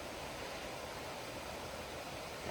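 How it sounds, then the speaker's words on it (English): A creek flowing through the Quinault Rain Forest in Olympic National Park gives a steady, broad rushing wash of water that stays even and continuous throughout, with no voices. "And there's that creek again."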